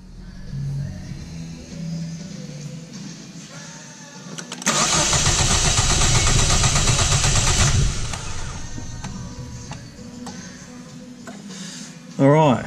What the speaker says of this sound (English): I'll go crank the car for about 5 or 6 seconds